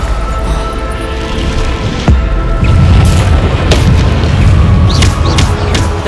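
A Bombarda blasting spell detonates in Hogwarts Legacy: a deep, heavy boom lands about two seconds in and rolls into a loud, sustained rumble of debris and crackling impacts.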